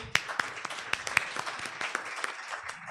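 Scattered applause for a chief guest at a reproductive justice litigation gathering, individual sharp claps rising above a thin, modest patter from a small audience.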